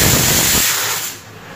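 A pressure cooker whistle lets out a loud steam hiss for about half a second, then fades into a softer, steady hiss while cooking moong dal ghugni.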